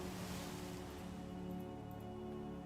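Ocean waves in a video game, a soft, steady wash of surf with no clear breaks, faint and continuous without any voices.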